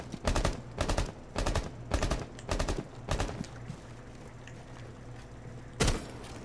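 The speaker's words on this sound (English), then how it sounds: "I think we're all just shooting" Gunfire in the Rainbow Six Siege video game: five rapid automatic bursts in quick succession, a lull, then one last loud burst, all sharp and close against low background noise.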